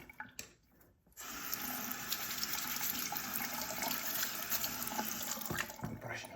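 Tap water runs steadily over a razor being rinsed at a sink, a constant hiss and splash that starts after a brief quiet moment and continues close by.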